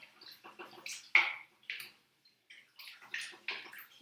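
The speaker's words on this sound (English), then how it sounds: "I'm also going to pop in my milk." Milk is poured from close by into a flour-thickened pasta sauce for a salmon pasta bake, giving irregular splashing and glugging bursts with short gaps and no talking.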